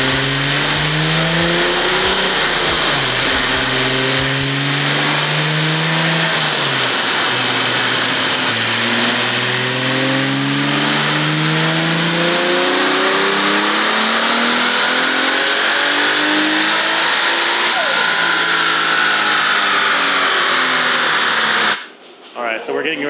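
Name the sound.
car engine revving on dyno roller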